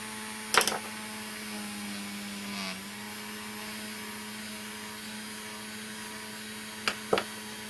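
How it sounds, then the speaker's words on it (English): A small portable fan drones steadily while it dries acrylic paint on a Halloween coaster, a constant low whirring hum with a couple of brief clicks near the start and end. "I'm going to dry this very quickly. I'll find a little portable fan here."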